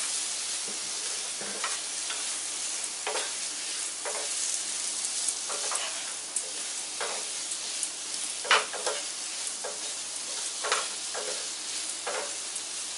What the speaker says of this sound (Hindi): आलू पकाई मिक्स कर दबा